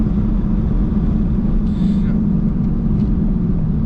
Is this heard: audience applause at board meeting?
no